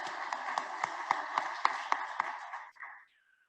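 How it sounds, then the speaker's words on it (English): Applause from an audience at a real estate association event, a steady run of sharp claps at moderate distance that thins out and stops after about three seconds. "Please join me in a round of applause"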